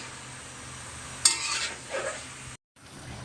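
A spoon stirs papaya and egg curry in a pan, giving two short scraping strokes with a faint sizzle over a quiet background.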